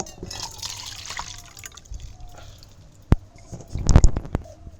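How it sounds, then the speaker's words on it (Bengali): Cooked mustard oil for a raw mango pickle is poured into a bowl, giving a soft liquid trickle followed by a brief louder splashing gush near the end. "এবার তেলটা ঠান্ডা করার জন্য আমি একটা বাটির মধ্যে ঢেলে নেব"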